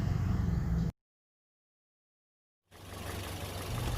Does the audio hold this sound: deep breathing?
no